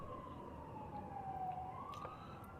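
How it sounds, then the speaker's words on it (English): A distant siren wails faintly in the background, a long steady tone that dips and rises again beneath low ambient noise. "background sirens are still here, of course, to annoy me specifically"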